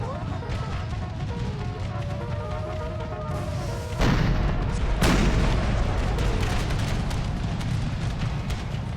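Cannon fire in a Civil War battle from Empire: Total War's American Civil War mod, with heavy booms around four and five seconds over a constant din of distant gunfire and rumbling battle noise.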